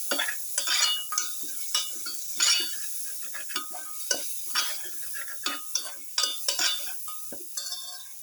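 Lamb, carrot and rice being stirred in a pan, with repeated close scraping strokes of a utensil in an uneven rhythm over a faint sizzle.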